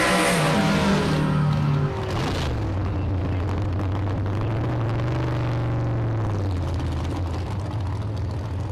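A drag racing dragster engine at a bracket race roars loudly and continuously, its pitch climbing and shifting as it revs under a thin announcer's voice.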